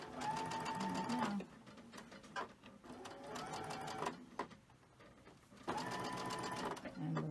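Sewing machine stitching quilt pieces, bursts of fast whirring needle rhythm separated by short pauses, close and clear, with a quiet voice speaking between runs.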